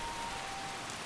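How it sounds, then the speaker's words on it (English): Steady torrential rain from a thunderstorm in the Skyrim Special Edition video game, a dense even hiss of falling water with a faint thin tone running through it, constant and moderately quiet over about a second. "as you may be able to hear, over the sound of the questionable flute work over there, it is indeed still raining."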